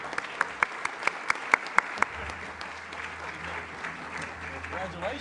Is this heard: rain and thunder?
no